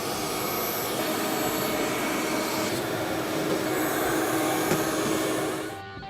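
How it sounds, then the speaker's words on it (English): An industrial vacuum cleaner sucking grime out of a very dirty escalator, a loud steady whining roar that holds without a break and then cuts off abruptly near the end, with no voices. "Nice vacuum, Scotty."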